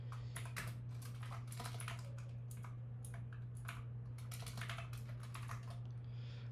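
Typing on a computer keyboard while writing assembly code, rapid irregular key clicks in close bursts over a steady low electrical hum, with no voices.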